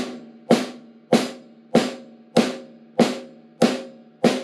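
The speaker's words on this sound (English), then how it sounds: "And then the same with the snare and the hi-hat." Snare drum and hi-hat on a drum kit land together in seven crisp, evenly spaced hits at a steady beat, each ringing briefly before the next, with no other sound.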